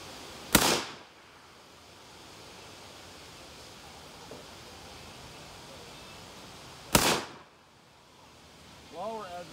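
A gun firing at a target, with two loud, sharp shots several seconds apart over faint outdoor background and a brief voice near the end.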